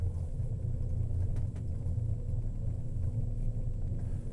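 A Banff Gondola cabin riding down the mountain, a low steady rumble and hum inside the cabin, quiet and continuous with no talk.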